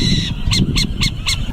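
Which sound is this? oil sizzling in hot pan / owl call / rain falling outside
owl call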